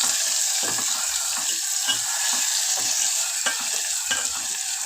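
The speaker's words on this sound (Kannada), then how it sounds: "ಸ್ವಲ್ಪ ಉಪ್ಪು ಹಾಕೊಂಡು ಮಿಕ್ಸ್ ಮಾಡ್ಕೊಳ್ಳೋಣ ಚೆನ್ನಾಗಿ" Tomatoes with added salt sizzling in a pan while being stirred, a continuous frying hiss with repeated scraping stirs throughout.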